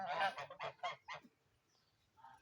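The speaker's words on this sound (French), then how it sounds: "Je parle bien sûr des canards, canards de barbarie surtout" Muscovy ducks on a farm give a quick run of five nasal honking calls close by, followed by a brief pause and one softer call.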